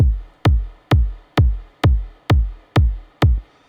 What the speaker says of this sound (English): It's almost like this high rumble.